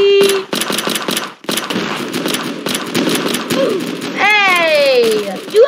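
Rapid bursts of gunfire from a gun in the Roblox game Prison Life, loud and close, with sharp repeated shots and a whistling tone near the end, and no speech heard.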